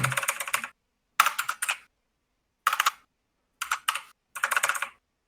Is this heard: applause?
no